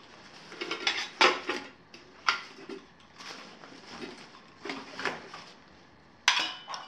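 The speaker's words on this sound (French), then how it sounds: "Donc j'aurai ma bouilloire." A camping kettle and a gas cartridge clatter and clink as they are handled and set down, in several sharp metallic knocks and scrapes at irregular intervals, close by with no talking.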